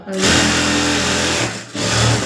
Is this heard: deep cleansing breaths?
no